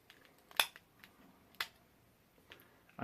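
Plastic parts of a Megatron Transformers toy click as they are unpegged and folded, several sharp isolated snaps about a second apart over a quiet background.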